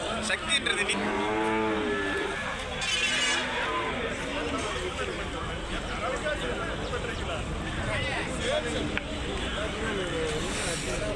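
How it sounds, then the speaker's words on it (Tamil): Native dairy cows and heifers at the Orappam livestock market in Krishnagiri district moo repeatedly, near and loud, amid constant crowd chatter and people talking. "எல்லாமே வந்து பால் மாடு"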